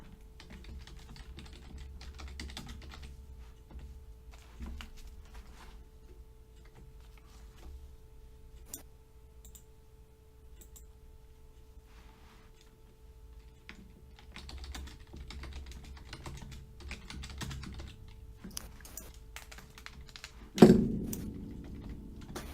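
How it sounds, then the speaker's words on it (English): Someone types on a computer keyboard in quick, soft clattering bursts with pauses between them, close but quiet, and a single louder thump comes near the end. "I'm just typing something."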